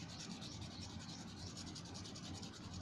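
Steady, soft rubbing of graphite pencil shading on paper to blur it, a continuous dry scratchy friction at close range with no voices.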